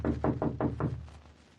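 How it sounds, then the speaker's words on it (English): Knocks on a front door as a radio drama sound effect: five firm, evenly spaced raps in quick succession, close and clear, then a fading tail with no voices. "We knocked on the front door."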